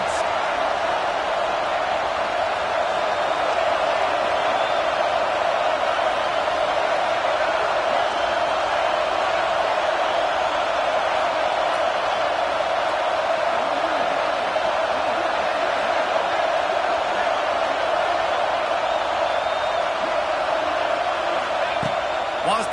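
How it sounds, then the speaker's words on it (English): Stadium crowd in the football video game NCAA 26, a constant dense roar of cheering fans at a college game, steady and loud with no breaks, under commentary. "Listen to this crowd just shaking the girders of this place trying to help their defense."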